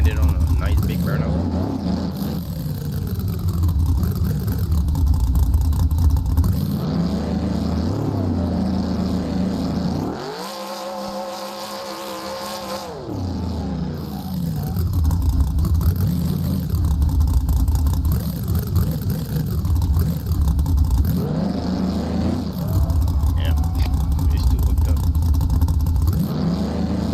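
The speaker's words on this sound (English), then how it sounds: "Can we end it on a nice big burnout?" Chevrolet Monte Carlo in BeamNG.Drive doing a burnout: a loud, sustained engine roar with revs rising and falling and a brief lull midway, close and dominant throughout.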